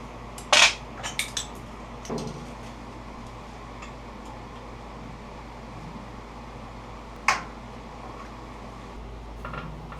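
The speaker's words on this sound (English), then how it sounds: "I got out my old pulley puller." A pulley puller works a stuck four-position pulley off the shaft of an old motor, giving a few sharp metallic clanks and ticks near the start and another isolated clank later over a quiet hum.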